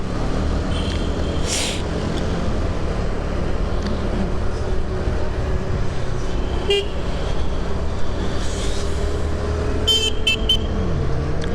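Busy local road traffic in Mangaon, on the Mumbai to Konkan route, rumbles steadily nearby, with several short car horn toots and a burst of rapid honks near the end.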